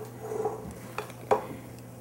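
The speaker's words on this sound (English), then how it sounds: "I'm just going to fold until I don't see separate white and chocolate anymore" Chocolate soufflé batter is folded in a bowl, with soft scraping and a few light clinks of a utensil against the bowl's side, close and fairly quiet.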